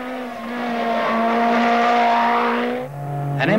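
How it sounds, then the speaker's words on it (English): A Lancia Delta S4 rally car's engine roars at a steady high pitch, then briefly drops and climbs again as it revs back up, at Pikes Peak. "A Lancia Delta S4."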